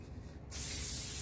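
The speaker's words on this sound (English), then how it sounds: "final layer of spray" A short burst of hairspray from an aerosol can, a loud steady hiss starting abruptly after a quiet moment, close by.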